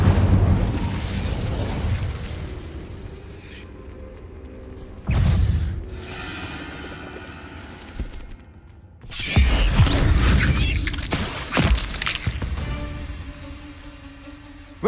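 Incendio fire spell blasts in the wizarding game Hogwarts Legacy, set in a cave, heard as several loud whooshing bursts with crackling flame and rumbling booms, separated by short quieter gaps and a brief silence.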